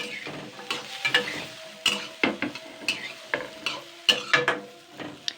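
Chunks of new potato fry in a pan while being stirred, with a low sizzle under a steady run of rhythmic scraping and clinking strokes.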